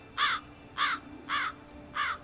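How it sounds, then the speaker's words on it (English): A bird gives four evenly spaced, shrill, crow-like caws that carry from a distance over quiet background noise. "A particularly shrill bird call from the distance rips through the tension"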